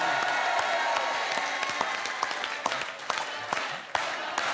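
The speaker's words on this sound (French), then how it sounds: "Mais on applaudit Benjamin." A TV game show studio audience applauds presenter Benjamin Castaldi with continuous clapping, some sharper individual claps standing out as it gradually thins toward the end.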